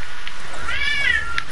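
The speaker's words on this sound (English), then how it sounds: "The cat's meowing." A cat gives a single drawn-out meow, rising then falling, heard close over a steady background hiss, with faint clicks around it.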